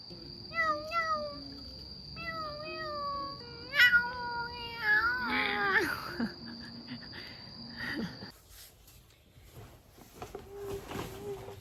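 A cat meows several times in a row, clear, close high-pitched mews with rising and falling tones, set against a steady high electronic whine. Soft voices and quieter meows follow near the end.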